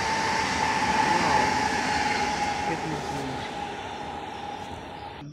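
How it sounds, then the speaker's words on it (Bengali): A train passes on a railway line beside a house, a loud rumbling roll with a sustained high wheel squeal that fades as it moves off, and a faint click at the end. "আমাদের বাড়ির পাশ দিয়ে রেল লাইন যাচ্ছে, তো ট্রেন যাচ্ছে।"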